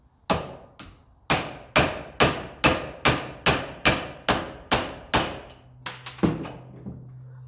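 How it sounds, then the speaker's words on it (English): A heavier hammer pounds the Lucas dynamo of a 1954 Ferguson 20 TEF diesel tractor, knocking the truss washers loose: a steady series of about twelve loud, close, ringing blows at even intervals, then a few quicker, lighter taps over a low hum. "A heavier hammer."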